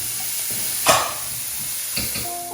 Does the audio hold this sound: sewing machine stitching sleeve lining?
no